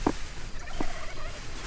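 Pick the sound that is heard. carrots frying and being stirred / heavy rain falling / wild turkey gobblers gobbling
wild turkey gobblers gobbling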